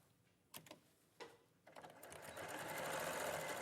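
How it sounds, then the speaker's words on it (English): A sewing machine runs a straight seam across the bottom line of pinned fabric, starting with a few short bursts before settling into a steady, close, continuous whirr that builds toward the end. "we're just going to sew across that bottom line"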